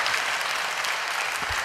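A church congregation claps together in a broad, sustained round of applause that stays steady for a moment and then continues.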